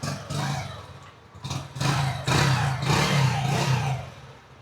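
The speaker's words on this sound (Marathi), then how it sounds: "आपली बाईक सुरू झाली एका किकमध्येच" A motorcycle kick-started at a service stop keeps running, its engine idling and revving in a steady, fairly close rumble that swells and eases, with no talk over it.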